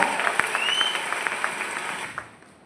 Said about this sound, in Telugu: చప్పట్లు చప్పట్లు గట్టిగా